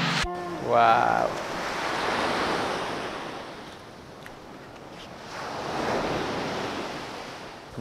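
Sea waves rolling in at a busy Hua Hin beach near sunset, swelling and receding in two broad surges with wind buffeting the microphone, and a brief voice at the start.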